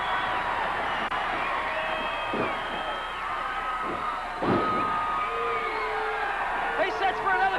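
A wrestling arena crowd cheers and roars in a steady wash of noise, with a voice talking over it.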